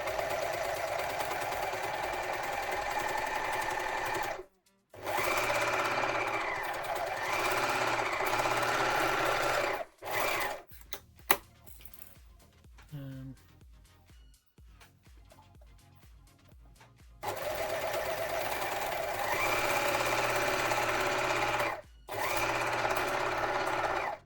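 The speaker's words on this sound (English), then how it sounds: "Need to overlock the edges first," An overlocker serging fabric edges runs loud and close in sustained bursts, with two brief pauses and a stretch of quieter handling and clicks before the whirring stitching resumes.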